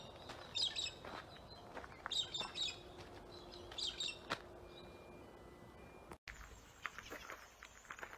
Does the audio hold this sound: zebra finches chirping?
yes